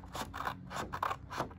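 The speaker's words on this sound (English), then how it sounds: "being very careful with my scissors" Scissors cutting through black card, four crisp snips in a steady rhythm, close and clear with no talking.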